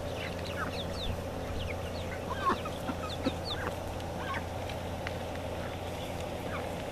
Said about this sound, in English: I've got one mama hen who's larger than the other in the buff Orpingtons.